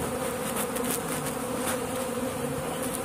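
A swarm of honeybees that has left its hive buzzes loudly and steadily throughout, a dense, continuous drone of many wings close by, with no talking.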